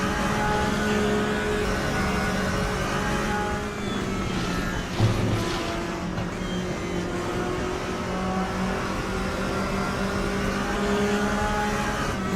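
Porsche race car engines in the RaceRoom video game drone steadily and loudly throughout as the cars run close together, with a brief bump of engine noise midway.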